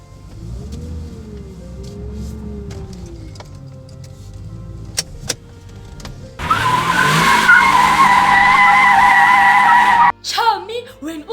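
Cartoon-style car sound effect for a car driving home, with a sustained whooshing engine or skid tone, then a brief burst of chirpy effects after a voice speaking over soft music.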